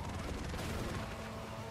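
A rocket fires off amid dense, continuous gunfire and explosion noise in the side-scrolling action video game Broforce, with the game's combat sounds loud and unbroken throughout.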